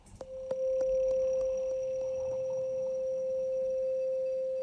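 A steady synthesizer tone from the Vital synth holds a single pitch with warm, lingering reverb from a plugin, preceded by a few soft plucked onsets.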